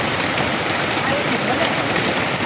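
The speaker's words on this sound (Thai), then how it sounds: "ฝนจะตก ฝนตกเลย" Heavy rain pours steadily during a storm in rural Thailand, a dense, even hiss of drops striking surfaces without break.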